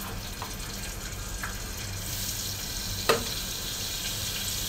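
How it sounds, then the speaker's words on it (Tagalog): Chopped tomato sautéing in a pot without a frying pan for a Filipino cabbage and sardine stir-fry, a steady close sizzle with faint stirring clicks and one sharper clatter near the end. "So, ilagay ko na itong tomato para igisa natin"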